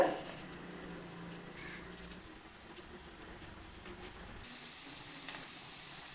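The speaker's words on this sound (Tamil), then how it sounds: "வெங்காயத்தை எண்ணெயில் வதக்கலாங்க" Onions sauté in cooking oil in a pan, a faint, even hiss of frying that continues steadily with a slight shift partway through and one small tap near the end.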